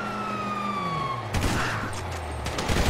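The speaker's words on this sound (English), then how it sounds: "Oh, fuck, you hear that? Sirens!" Police sirens wail in GTA V, a rising and falling tone that fades out before a burst of loud, chaotic crashes, gunfire-like bangs and noise takes over for the rest of the clip.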